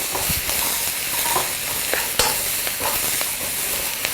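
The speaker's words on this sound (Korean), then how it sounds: "오일을 약간 더 넣으시고 볶아주세요" Wood ear mushrooms and other mushrooms stir-fried in oil for a vegetarian mushroom rice bowl, with a steady close sizzle and repeated scraping clicks of a spatula stirring throughout.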